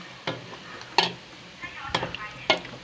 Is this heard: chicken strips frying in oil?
yes